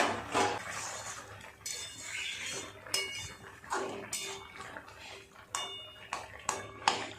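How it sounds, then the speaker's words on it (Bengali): A lid lifted off a cooking pot of simmering ridge gourd and potato, with metallic clinks and clatter of utensils against cookware in a home kitchen, scattered light knocks over quiet background. "এবার ঢাকাটা খুলে দেখি কেমন সেদ্ধ হলো সবজিগুলো।"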